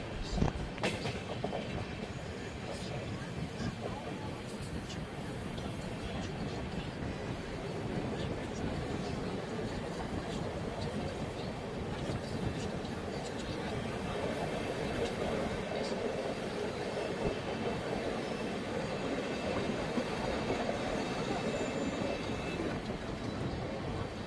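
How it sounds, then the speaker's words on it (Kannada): Passenger train running on rails between Bangalore and Shivamogga, heard from inside a carriage: a steady broadband rumble with faint rhythmic wheel clatter and occasional high squeal, continuous throughout, with no talk over it. "ಫ್ರೆಂಡ್ಸ್, ನಮ್ಮ ಟ್ರೈನ್ ಈಗ ಮಲ್ಲೇಶ್ವರ ರೈಲ್ವೆ ಸ್ಟೇಷನ್ನ ಸ್ಕಿಪ್ ಮಾಡ್ತಿದೆ."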